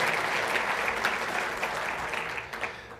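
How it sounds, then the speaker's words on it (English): An audience at an economic forecast breakfast claps, a dense steady patter of many hands that eases slightly toward the end of the short burst. "You can clap"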